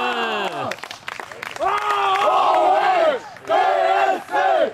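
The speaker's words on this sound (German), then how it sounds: "Fertig machen zum Jubeln." Amateur football crowd at a match between TSV Garsebach 1990 and Dresdner SC, with a few voices yelling and cheering in loud bursts, several rising shouts close by with brief pauses between them.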